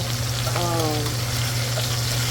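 Chicken pieces frying and browning in a stovetop pan for a cream of mushroom chicken and rice dish, a steady close sizzle throughout with a brief tonal squeak in the middle.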